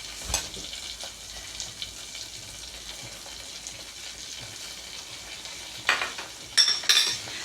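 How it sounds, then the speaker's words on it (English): Flour fries in a pan for spinach-tomato soup, giving a faint, steady sizzle with a few sharper clinks and stirring bumps near the end. "we'll just let that fry for about a minute to take on the flavours and start to cook"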